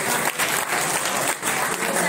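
An audience at a savings group's new branch opening claps in a dense, continuous round of applause with two brief dips, heard close and loud.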